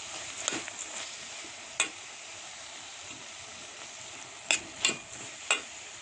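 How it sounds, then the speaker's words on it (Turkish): Bulgur, rice and tomato paste filling stirred in a pan with mint and basil, a faint steady sizzle broken by a few sharp scrapes and clicks of the spoon against the pan. "Karıştırıyorum."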